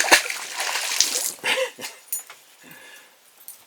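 An 18-inch largemouth bass, released by hand, smacks into lake water with a sharp splash, followed by a few smaller splashes and drips that fade out.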